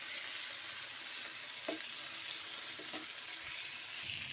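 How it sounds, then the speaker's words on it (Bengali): Pointed gourd (potol) frying in a pan: a steady, even sizzle of hot oil at moderate loudness with a couple of soft stirring taps. "এদিকে অল্প আছে আমি ভাজিটা করে নিচ্ছি পটল ভাজি"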